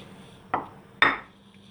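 Two sharp metallic clanks half a second apart, a pot set down on a stovetop to make rice pilaf with orzo, over a low steady hum.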